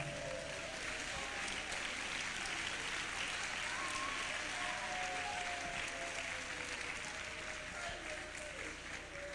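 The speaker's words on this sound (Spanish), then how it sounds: "Dele palmas al Rey en esta mañana." A church congregation applauds steadily and loudly throughout, a dense continuous wash of clapping from many hands with a faint murmur of voices underneath.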